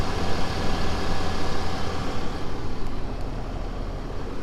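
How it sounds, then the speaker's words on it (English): A 2019 Ram 3500 Cummins diesel pickup rumbles steadily up close, its low engine drone continuous and fairly loud with no one talking. "it still does sound a bit like a diesel"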